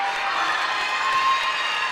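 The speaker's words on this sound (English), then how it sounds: "this entire gymnasium broke out in applause" Gymnasium crowd at a high school girls volleyball match between Jackson Liberty and Colts Neck breaking into steady applause and cheering after a point, a dense wash of clapping sustained throughout.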